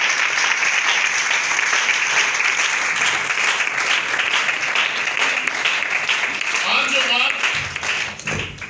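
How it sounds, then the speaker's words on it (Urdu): A church congregation applauds loudly and continuously, a dense wash of clapping lasting most of the stretch, with a voice speaking over the final moments as the clapping thins out. "آئیے اس کے فضل کے لیے زوردار تالیاں۔"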